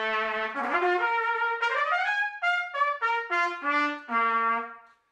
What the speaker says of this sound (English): Now let's use the trumpet to start with.